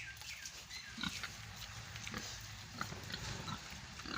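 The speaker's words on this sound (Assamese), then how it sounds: "মানে এইটো হ'ল হেমশ্বেয়াৰ আৰু য়ৰ্কশ্বায়াৰ ক্ৰছ বুলি কৈছে গাহৰিকেইটা" Hampshire and Yorkshire cross pigs on a farm in Assam grunt low and close, in short irregular bursts over steady background noise.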